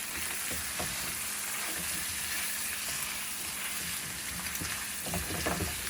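Pork liver sizzles and fries in a pan while being stirred for Filipino pancit gisado, a steady close crackle with soft scraping and occasional louder pops.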